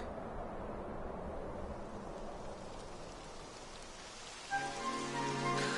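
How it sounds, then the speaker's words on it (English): Steady rain patters softly and evenly; near the end a faint tonal sound rises briefly above the hiss. "It would have to go and start raining, wouldn't it?"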